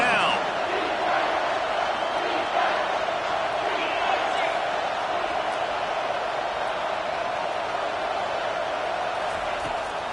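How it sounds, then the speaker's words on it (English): Steady, loud stadium crowd roar from a college football game in NCAA 25, Texas A&M on defense late in the third quarter, a continuous sustained cheer filling the whole stretch with no pauses. "This crowd knows this defense needs them right now."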